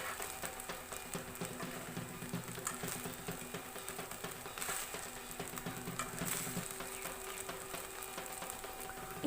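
A spoon stirs sugar and ghee into pulao in a pan, a faint continuous scraping and soft sizzle close by, steady throughout with no voices.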